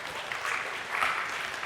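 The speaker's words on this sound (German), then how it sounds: "Ein Applaus für alle Ameisen." An audience at a live science talk show applauds: dense, even clapping from many people with slight swells in intensity, heard at moderate distance with no speech on top.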